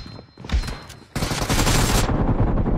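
Dense video game gunfire bursts out after a short gap and runs as a loud, continuous volley to the end, with a rapid automatic-fire texture and no talking.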